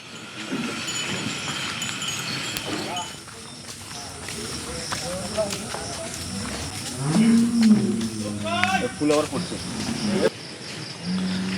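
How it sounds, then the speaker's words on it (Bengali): Cattle being loaded onto a delivery truck at a farm, with several loud drawn-out moos in the second half over outdoor bustle and background voices. "আমাদের দুই সালের কোরবানির প্রথম ডেলিভারির প্রথম গরুটি আমরা এখন ট্রাকে উঠাচ্ছি"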